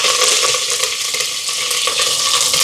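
Cinnamon, four cloves and green chilli fry in hot ghee for coconut milk rice, producing a loud, dense, unbroken sizzle up close with faint stirring beneath it.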